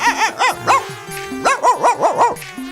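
A man imitates a dog barking, a loud close run of rhythmic yapping barks with a short pause in the middle, delivered alone.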